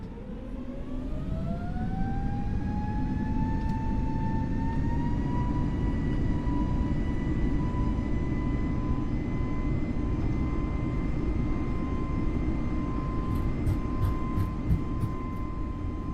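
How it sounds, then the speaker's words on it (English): A simulated airliner spools up for takeoff in Microsoft Flight Simulator 2020, departing Riyadh: a steady loud engine roar with a rising whine that climbs and then holds, with faint clicks near the end. "And V1, rotate."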